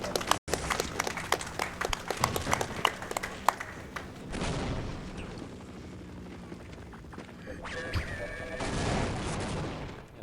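Rapid bursts of weapon fire from the game Half-Life, including a ghost cannon, crackle in dense volleys through the first half, then give way to a steadier mechanical hum with brief electronic tones.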